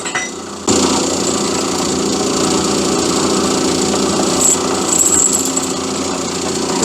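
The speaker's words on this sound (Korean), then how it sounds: "이제 여기 나사내고 이쪽에도 나사내고, 나사는 6mm 나사를 낼 거예요." A power tool cuts 6mm screw threads into a welded, machined part for a fishing platform's automatic leg, starting abruptly and then running as a loud, steady, buzzing whir close to the microphone.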